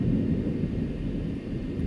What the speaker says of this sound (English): I'm pretty sure that this thunderstorm